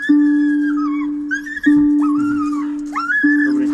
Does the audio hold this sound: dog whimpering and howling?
yes